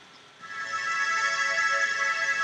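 The bounder pad preset on Studio One's Presence synth swells in after a quiet start into a bright, sustained chord with shimmering upper tones, steady and unaccompanied by speech.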